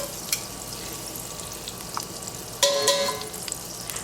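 Butter frothing in a hot pan sets up a steady, soft sizzle and crackle, which swells louder near the end as the frying picks up.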